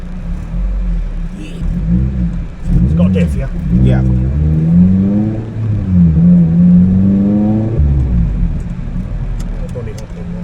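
A Honda Civic Type R FN2 with a swapped K24 engine rumbles and revs through several rising pulls at close range, while people talk briefly over the engine.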